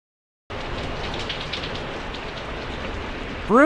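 Heavy rain pouring outside, dense steady hiss of drops on surfaces that starts abruptly and continues evenly, with a brief bright tonal sound at the very end.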